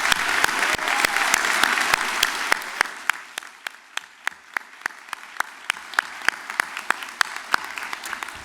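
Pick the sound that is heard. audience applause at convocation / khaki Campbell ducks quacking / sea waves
audience applause at convocation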